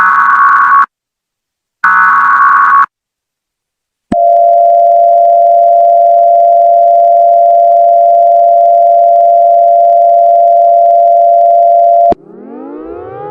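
Emergency Alert System broadcast: two short bursts of a loud, harsh two-tone attention signal, then a long, steady, piercing tone held for about eight seconds, cut off by a falling electronic sweep.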